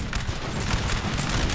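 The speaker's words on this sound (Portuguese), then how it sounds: "os tiros começam a derrubar eles mais ainda" Massed musket volleys crackle in a Napoleonic battle in Napoleon: Total War, a continuous close, loud rattle of overlapping gunshots with no talk.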